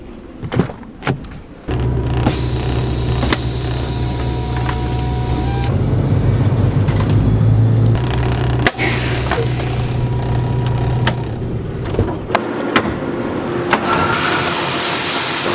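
Loaded grain truck idling on a farm, a steady low engine rumble with mechanical whine and rattles running throughout, near and fairly loud, with scattered clunks and knocks.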